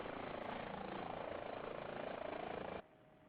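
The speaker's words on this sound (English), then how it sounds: "We are in the Hype H145 Airbus helicopter." An Airbus H145 helicopter in Microsoft Flight Simulator gives off a steady, loud rotor and turbine drone with a fast pulsing beat, which cuts off abruptly near the end.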